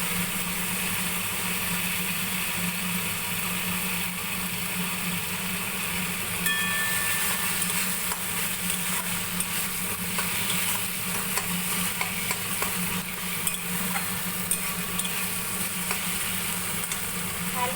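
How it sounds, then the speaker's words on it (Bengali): Pointed gourd curry fries in a pan with a steady, close sizzle and hiss that holds evenly throughout, with faint scattered clicks and no speech. "বেশ ভালো ভাজা হয়ে যাচ্ছে।"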